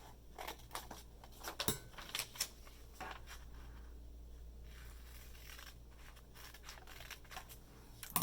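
Scissors snip through paper along hand-drawn lines to cut out flaps for a classroom math foldable, a series of short crisp cuts scattered over quiet room tone with no talking.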